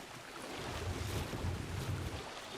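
Oxalaia, a large aquatic dinosaur in Ark Ascended, swimming through water: a steady low rushing wash and surf-like churn, continuous and fairly soft, with no voices.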